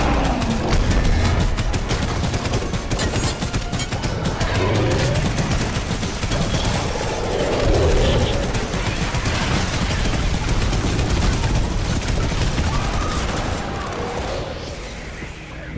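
Hover turrets firing nonstop in Fortnite Save the World, a dense, loud barrage of rapid automatic shots and impacts running throughout with explosions mixed in.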